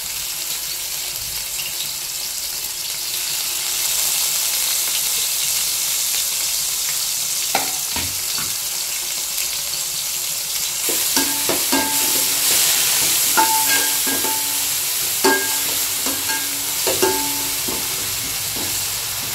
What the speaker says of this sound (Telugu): పచ్చిమిర్చి, జీలకర్ర, చిన్నులపాయ ఫ్రై అవుతుంటే స్మెల్ మటుకు భలే వస్తుంది అసలుకి